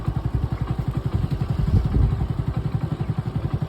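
Motorcycle engine putters steadily with a rapid, regular low thump while riding through a Punjabi village, close and continuous, swelling slightly midway before settling back.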